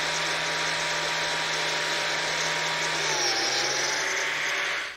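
A biscuit joiner whines steadily and loudly close by for several seconds, its pitch dropping slightly partway through as it cuts slots in coffee table rails and legs, then winding down.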